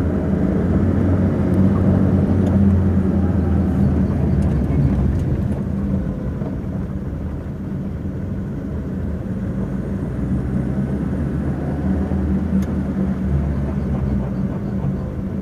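A car driven at high speed with a grinding brake noise near the front right wheel gives a loud, steady low rumble and road roar throughout, with no clear voices.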